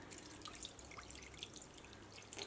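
Water trickles and drips into a bowl of rice flour for making vada in a home kitchen, a soft continuous splashing that stays fairly faint and close, with no voices.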